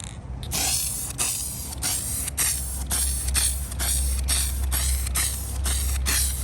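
Rapid bursts of aerosol spray paint from a can coating the blades and parts of a 1955 Westinghouse fan, a dozen or so short hissing puffs in a steady rhythm, close and fairly loud over a low background hum.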